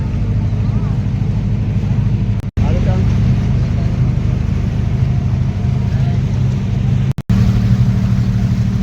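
A motor boat running on the Ganges along the Varanasi ghats during a boat race, its engine a loud continuous low rumble with someone talking over it.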